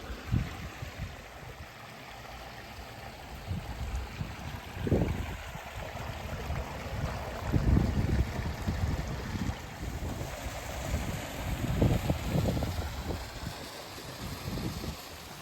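Waterfall on a moorland walk up on Black Hill, a continuous rushing roar of falling water with gusting wind buffeting the microphone, no voices.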